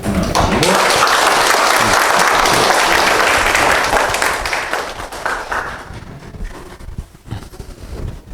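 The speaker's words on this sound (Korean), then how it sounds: "뜨거운 박수로 환영하시고" Loud, dense applause from a church catechism audience welcoming a priest to speak; it rings out at full strength for about four seconds, then thins and fades as the clapping breaks up.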